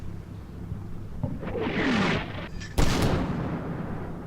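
A giant howitzer shell strikes in the Combat Mission: Final Blitzkrieg war game, giving one heavy, sharp blast near the end that follows a rumbling roar of artillery fire, with no talk.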